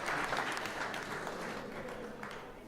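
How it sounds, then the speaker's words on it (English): Audience applause at a startup conference talk, a continuous crowd of clapping hands heard from within the room, strong at first and easing slightly over nearly three seconds. "Yes, that is worth clapping about."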